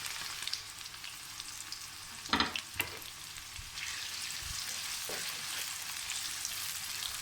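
Two medium chopped onions frying in a cup of hot oil in a kadai give a steady, dense sizzle, broken by a few brief clunks of stirring.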